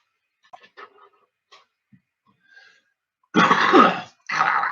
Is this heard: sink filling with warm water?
no